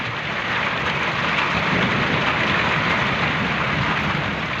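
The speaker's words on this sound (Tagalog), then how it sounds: "Lakas ng ulan" Heavy rain pours down steadily on a vineyard just after pruning, a dense, even hiss that lasts throughout without pause or voices.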